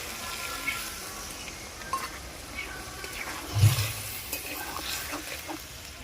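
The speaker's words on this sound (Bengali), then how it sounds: "এবারে আমি জল দিয়ে দেব।" Water goes into a pan of frying fish curry and raises a continuous close sizzle with stirring scrapes and a short louder splash burst midway, no voices over it.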